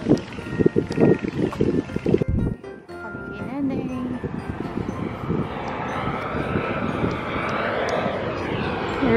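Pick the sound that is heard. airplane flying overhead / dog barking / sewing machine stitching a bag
airplane flying overhead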